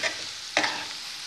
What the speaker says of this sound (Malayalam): സവാള ഇട്ടിട്ട് നല്ല പോലെ ഒന്ന് ഫ്രൈ ചെയ്ത് മാറ്റാം